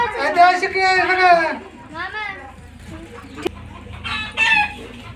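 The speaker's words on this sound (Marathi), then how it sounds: "कोंबड्यांची पिल्लं" Chicks and hens on a farm give repeated close peeping and clucking calls in bursts, with quieter gaps between them.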